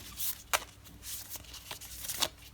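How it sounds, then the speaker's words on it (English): A tarot deck being overhead shuffled up close, with soft papery slides and several sharper card snaps at irregular intervals, alone without speech. "Overhead shuffles just fine too."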